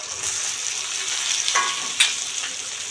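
Boiled potatoes and ground spices fry in a pan for a goose egg curry, a steady close sizzle broken by a couple of sharp scraping strokes from stirring, with no voices.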